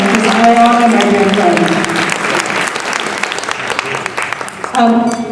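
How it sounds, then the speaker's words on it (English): An audience gives sustained applause honoring a colleague at an Illinois Psychological Association gathering, with dense, steady clapping filling the room and some tonal voices or music around the start and end. "please give this very special clap, and please honor her"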